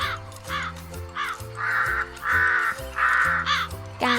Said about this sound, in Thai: กาบินมาทำหน้าเป็นกาส่งเสียงเริงร่าร้องกากากาฉันคือกา